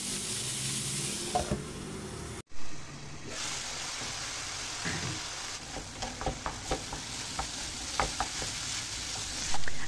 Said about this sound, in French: puis je rajoute le bœuf haché